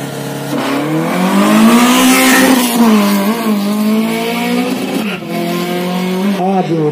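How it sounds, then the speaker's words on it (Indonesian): A drag race machine at a national championship event screams past with a loud, rising and falling engine howl, its pitch sweeping up then settling into a strained drone, close and continuous with crowd noise beneath. "Berapakah catatan waktu daripada Bicil yang sudah bersiap"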